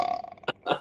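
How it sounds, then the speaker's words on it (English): A single short burp from a man, close and fairly quiet, with a brief vocal sound just before it and no talk over it. "I'm burping"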